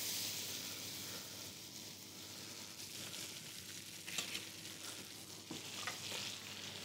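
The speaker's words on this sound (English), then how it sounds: "And then we just pan fry it." Food pan-fries in butter with a soft, steady sizzle, joined by a few light scrapes and stirring clicks near the close, quiet throughout with no voices.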